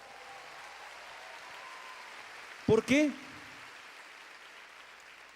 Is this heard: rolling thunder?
no